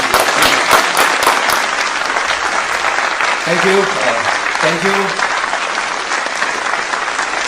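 Loud, dense applause from a live audience welcoming a comedian to the stage at a comedy show, sustained throughout with a few sharp claps standing out early, while someone briefly speaks a thank-you over the clapping midway.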